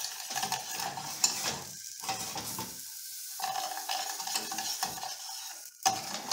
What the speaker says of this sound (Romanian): Îl las să fiarbă.